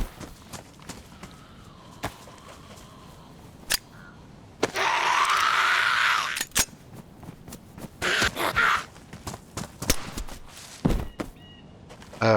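Gun reloading in the survival video game DayZ, a series of sharp mechanical clicks and clacks spread out over a quiet background, with a louder rustling burst of movement in the middle and more handling noises near the end.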